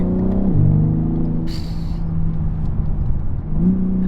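BMW M3 Competition G80 engine pulling hard on a mountain drive, a deep steady rumble with a quick rev drop at each gear shift near the start and again near the end, loud and close.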